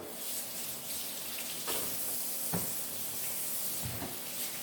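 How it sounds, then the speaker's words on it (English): Tap water runs steadily into a sink while hands are washed in a home kitchen, a constant hiss of spray with a few brief splashes and knocks, fairly close and without speech. "I'm going to wash my hands."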